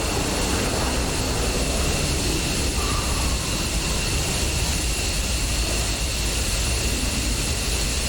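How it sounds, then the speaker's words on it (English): Jet reverse thrust on landing in the DCS flight simulator, on a badly damaged plane: a loud, continuous engine roar with a steady high tone and no letup. "Reverse thrust buckets."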